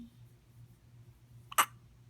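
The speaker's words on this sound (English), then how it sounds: "Do you have the hiccups?" A four-day-old baby gives a single short, sharp hiccup in a quiet room over a low steady background hum.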